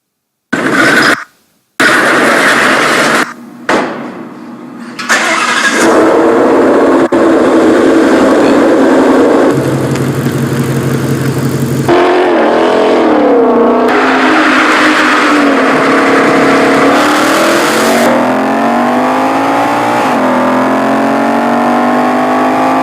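A 2020 Ford Mustang Shelby GT500 starts with a loud, close cold-start bark, then its engine settles into a rumbling idle and revs up and down repeatedly in rising and falling sweeps.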